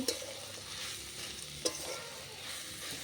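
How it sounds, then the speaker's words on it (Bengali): Saag greens, sweetened with a little sugar, fry in hot oil while being stirred, a continuous close sizzle with a couple of soft scraping knocks and no voices. "শাকটা একটু শুকনো শুকনো হবে একটু লাল লাল হবে নাড়াচাড়া করে তারপর নেওয়া হবে"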